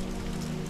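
Rain ambience in the video game Ghost Hunter, a brief steady wash of falling rain over a constant low hum of game music.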